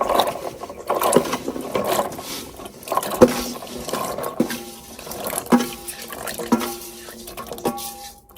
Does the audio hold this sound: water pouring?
yes